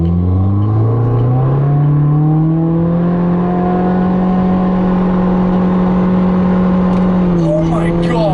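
A Subaru WRX accelerates hard in one long pull, its loud engine note climbing steadily in pitch before easing off near the end, heard close from inside the car.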